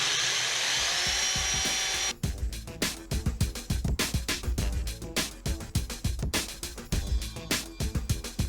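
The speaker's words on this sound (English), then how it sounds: "I just went and got a really aggressive paint stripping wheel, so maybe this will help" An aggressive paint stripping wheel on a power tool grinds rust off the clutch drum of a John Deere MC crawler, first as a steady high whine, then as rapid, rough, scraping bursts, loud and close.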